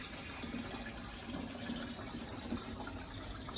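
Fresh water pours steadily into a newly built in-wall aquarium during a leak test, a soft continuous rushing hiss at low level with no pauses.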